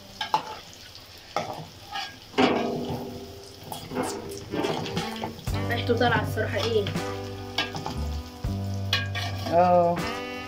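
A blended tomato and pepper mixture with cumin, coriander and black pepper fries in a pan, sizzling and bubbling close up while being stirred, with a person talking over it.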